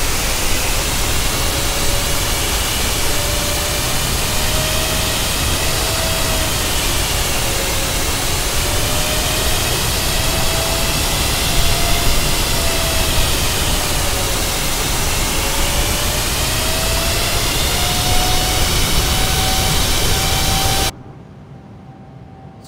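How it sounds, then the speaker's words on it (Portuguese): Boeing 737 MAX jet engines roar in Microsoft Flight Simulator 2020 with a steady, loud broadband rush and a faint wavering whine. The sound cuts off abruptly near the end. "Eu sei que é muito alto os motores aqui."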